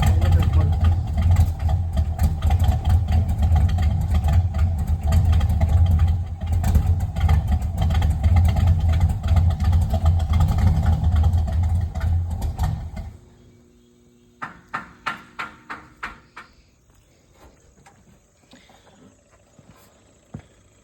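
A 1977 Chevrolet K10 truck engine that had sat for years runs loud and steady with a carbureted rumble for about thirteen seconds, then cuts off, leaving faint knocks and clicks in a quiet garage.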